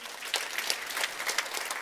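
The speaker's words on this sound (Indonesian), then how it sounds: "Tepuk tangan." A congregation at a church sermon claps together, a dense, steady patter of many hands at moderate loudness for under two seconds, with no voices on top.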